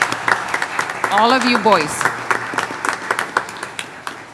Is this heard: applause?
yes